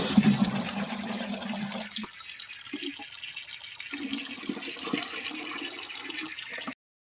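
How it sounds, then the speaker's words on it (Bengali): Tap water from a household kitchen faucet runs into a container, a steady close rushing splash that shifts slightly in tone partway through as the vessel fills, with no voices. "এই জল পড়ছে"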